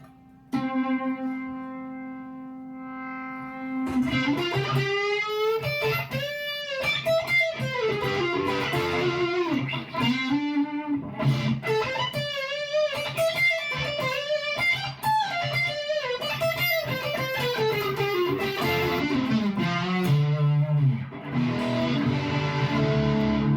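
Electric guitar with Wilkinson Hot Rails pickup played through distortion, starting with a sustained note, then gritty melodic bends and sliding phrases ringing with heavy overdrive, close and loud.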